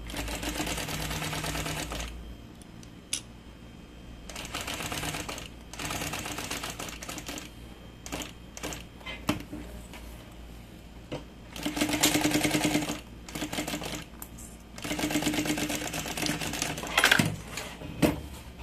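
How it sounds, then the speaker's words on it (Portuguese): A sewing machine stitches a pocket onto fabric in several separate bursts, each run of whirring stitches starting and stopping with pauses between them, close and moderately loud with no talking. "agora aqui você costura tranquilamente"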